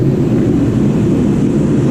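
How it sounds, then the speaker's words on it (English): A new shop heater runs as a steady, loud, broadband roar with a low rumbling hum, constant throughout without variation and with no talking. "We've got the new heater running."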